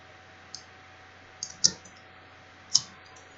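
Several sharp, separate computer keyboard key presses, close by and fairly loud against a quiet room hum, spaced irregularly with a louder pair near the middle and a single firm press near the end.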